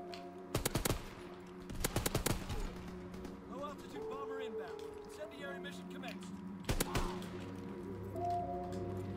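Short bursts of gunfire in the video game Call of Duty WWII crack out in a few quick clusters, moderately loud, with someone talking in between and faint game noises behind.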